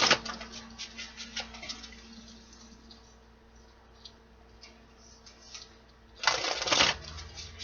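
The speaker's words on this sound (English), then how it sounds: "Two more shuffles, my guides." Tarot card deck being shuffled by hand, a run of quick soft riffling clicks and slaps, close and quiet, ending in a louder burst of riffling near the end, with no talk.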